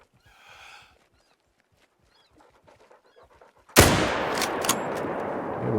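A rifle shot at a running fallow deer cracks suddenly and loudly after faint hoofbeats and a quiet stretch, then rings out in a long fading echo.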